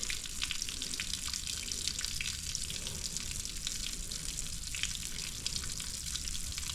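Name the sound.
water draining and rinsing off a tractor PTO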